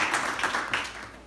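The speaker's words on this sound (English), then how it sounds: "give yourselves a round of applause" Audience applause at a merchant meeting in Hamtramck, Michigan: a short burst of clapping from a modest crowd indoors, fairly steady over a little more than a second, with faint speech mixed in.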